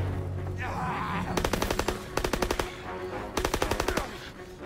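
Bursts of automatic gunfire from a Call of Duty WWII battle, two rapid volleys of sharp close shots over a steady ambient rumble, with a brief voice beforehand.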